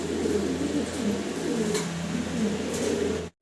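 English Carrier pigeons coo in a steady, overlapping series of low, rolling calls that continue throughout, close and fairly loud over a constant low hum, ending abruptly.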